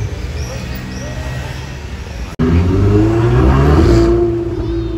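A car speeds past on a Monaco street, its engine swelling loud and close with a strong revving roar before easing off slightly, after a quieter stretch of low traffic rumble.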